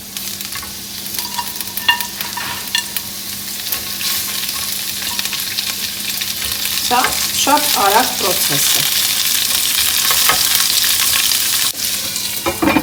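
Beans fry in hot vegetable oil with a steady, close sizzle while a spoon scrapes and stirs the pan in repeated strokes; a person speaks briefly over the cooking.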